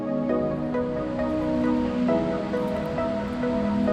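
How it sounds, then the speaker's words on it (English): Bonnel Creek Falls on Vancouver Island, seen from its base after a steep, slippery descent, a steady rushing roar of falling water with faint tonal sounds layered over it. "It's a little steep, but definitely worth doing it to see the bottom of this beautiful waterfall."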